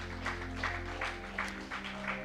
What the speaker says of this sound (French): Tu peux applaudir le Seigneur.